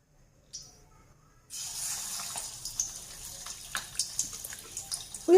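Onion vadas dropped into hot oil for a tea-shop style snack, with a soft hiss that starts abruptly after near silence and carries on as a steady sizzle, broken by scattered pops and crackles and a clunk at the end.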